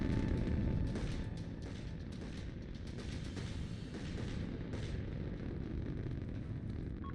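Video game combat with gunfire, heard as dense, continuous rumbling blasts and crackle under a noisy wash, with no clear single shots standing out.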